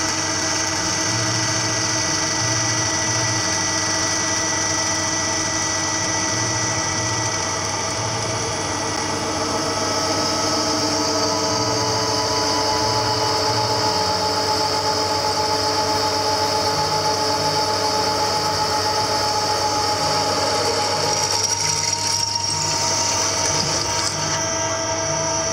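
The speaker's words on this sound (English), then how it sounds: "we'll turn the drill press on, and we'll run this" A drill press drills holes in a plate with no coolant, giving a steady loud motor hum and grinding drone that holds evenly throughout, with no talk.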